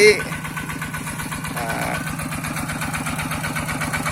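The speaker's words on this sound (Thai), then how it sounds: "เครื่องคูโบต้าครับปั่น จะให้ปั่นไปเรื่อยๆนะครับ" A Kubota engine pumping water from a canal into a rice paddy chugs at a steady, rhythmic idle-like beat, close and constant, with someone talking over it.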